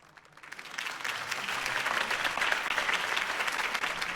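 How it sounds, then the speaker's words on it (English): A video game crowd applauds after a campaign speech, the clapping swelling from quiet into a full, steady ovation that holds for several seconds. "If only Mr. Wayne, my campaign's largest backer, could have heard that applause"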